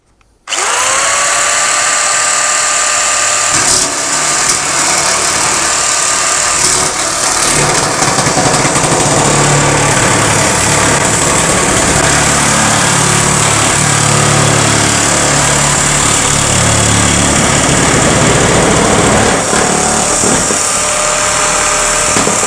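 A Parkside PMK 550 A1 electric nibbler cuts ribbed steel roofing sheet, giving a loud, continuous high-pitched grinding whine with rapid chattering, holding steady for about twenty seconds after a brief start.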